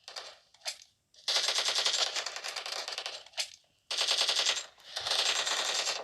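Automatic gunfire in the PUBG Mobile video game, heard as three or four loud, rapid bursts of rattling shots with brief gaps between them and no talking.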